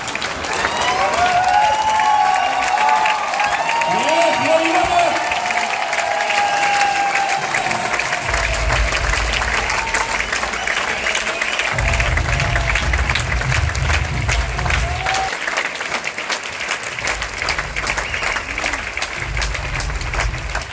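Loud, sustained applause from a large audience at an anniversary event as a guest is welcomed onstage, dense steady clapping that carries on throughout, with faint voices and music underneath.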